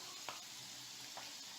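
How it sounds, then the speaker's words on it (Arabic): Almonds frying in oil while they turn golden, giving a steady soft sizzle with a couple of brief crackles; quiet and close, with no voices. "كما كتشوفوا راه مازال ما تحمر ليا اللوز ديالي، قرب يتحمر كنخليه مازال شويه"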